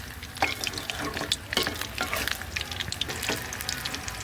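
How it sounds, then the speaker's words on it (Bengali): Cauliflower pakoras frying in oil with spices, a close, busy crackling sizzle broken by sharp pops and stirring clatter throughout. "অনেকগুলো দিয়ে দিলাম, এগুলো এখন ভেজে নিব মশলা করে।"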